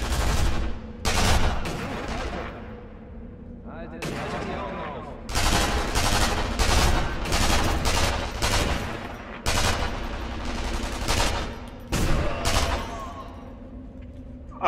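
Heavy, sustained automatic gunfire from the video game Sniper Elite V2, with long rapid bursts separated by brief pauses, loud and close throughout.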